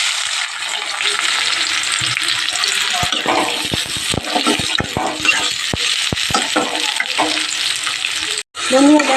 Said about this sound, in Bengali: এবার আমি এই যে পেঁয়াজগুলো দিয়ে দেবো।